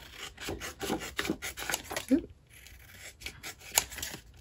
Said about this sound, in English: So I'm going to trim this up